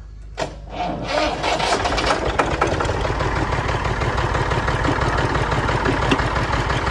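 A tractor engine cranks and catches, then settles into a steady, loud, continuous idle with a low rumbling throb that runs throughout.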